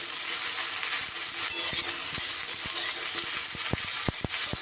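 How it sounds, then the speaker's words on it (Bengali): Broccoli stir-fried briefly in a pan, a steady close sizzle and hiss with several sharp clicks of a utensil against the pan toward the end, no talk. "জাস্ট মিনিট দুয়েক একটু নাড়াচাড়া করে নেব"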